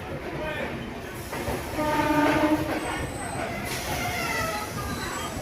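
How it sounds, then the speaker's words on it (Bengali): A local train pulls in at platform two of Jasidih Junction, its steady rail rumble filling the air, with tonal horn-like lines rising midway and a continuous hum of station noise around it. "আমাদের ট্রেনটি এসে পৌঁছালো দুপুর বারোটা দুই মিনিটে"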